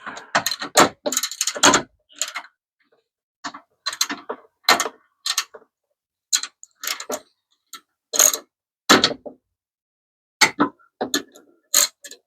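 A hand ratchet clicks in quick bursts of rapid ticking, pausing between strokes, as it backs out the final bolt on a short ram intake being fitted to a 2024 Honda Civic Si; close and crisp.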